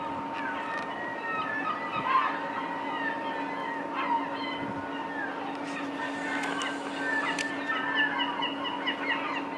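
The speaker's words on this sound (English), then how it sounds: "All of the seagulls." Seagulls call over a port in Russia, a chorus of mewing, wailing cries that rise and fall against a steady drone of engine or wind, fairly close and continuous.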